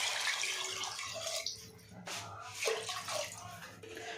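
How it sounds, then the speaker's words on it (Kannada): Water is poured into a cooking pot for rice, a splashing, gurgling stream that shifts in pitch as the level rises, with a faint voice now and then in the background. "ಅದಕ್ಕೆ ಡಬಲ್ ಅಷ್ಟು ನೀರು ಹಾಕ್ತಾಯಿದ್ದೀನಿ"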